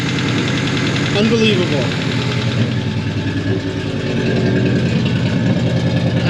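A 1988 Mazda engine idles through a Spintech muffler with a loud, steady, close rumble and a faint knocking pulse, while someone briefly speaks over it.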